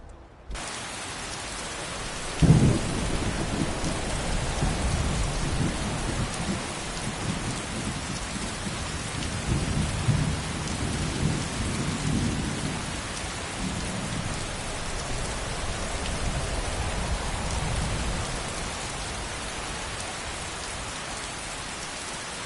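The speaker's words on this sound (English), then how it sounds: "Oh, now it's gonna rain." Steady rain pours down in Skyrim, with a deep roll of thunder rumbling in after a few seconds and further low rumbles spread through the continuous hiss.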